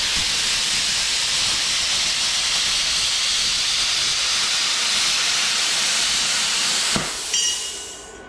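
A CUT-50P pilot arc plasma cutter slices through sheet metal with a loud, steady hissing roar that stops abruptly near the end, followed by a short clatter.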